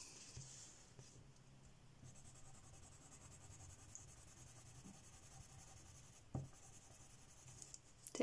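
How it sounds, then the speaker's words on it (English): Derwent Lightfast wooden colored pencils from a 100-pencil box set are swatched on paper, giving a faint, continuous close scratching with occasional light taps. "Takes a little bit of time to swatch 100 pencils."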